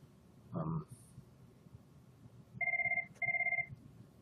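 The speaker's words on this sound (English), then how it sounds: "I got a phone call in between" A telephone rings with an incoming call during a trading session, two clear electronic double-tone rings in quick succession following a brief voice and a short chirp, fairly close in a quiet room.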